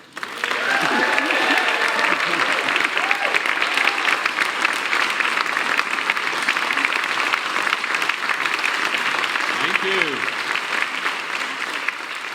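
Sustained, steady audience applause welcoming the Reverend Billy Hester home to Marble Collegiate Church, a dense wash of clapping that holds evenly for about twelve seconds with a faint murmur of voices beneath.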